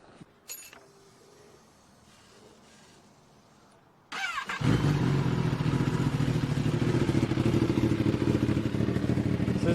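A Kawasaki ZX10R motorcycle fitted with an M4 full exhaust system fires up after a quiet stretch and then runs loud and close with a deep, steady rumble that fills the rest of the clip.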